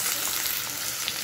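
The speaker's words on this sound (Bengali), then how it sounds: "তো চলো মাংসটা ভেজে নিই।" Meat frying in oil makes a dense, continuous crackling sizzle, close and steady for a brief moment.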